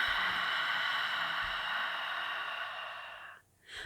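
A long controlled out-breath through the nose during yoga, a steady soft hiss that fades and stops, followed by the start of a new breath.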